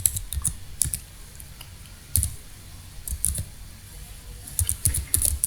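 VBA code is typed on a computer keyboard as bursts of crisp, close key clicks with short pauses between groups, fairly quiet and with no voice over them.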